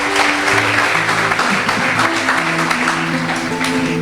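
Applause ripples through a church congregation, steady clapping with sustained musical tones from an organ or keyboard underneath, and no speech over it.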